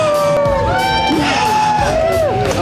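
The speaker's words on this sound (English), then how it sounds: "Wave to the crowd, and the crowd goes wild" A crowd at a watermelon eating contest whooping, yelling and cheering loudly in a short, wild burst of many overlapping voices close by.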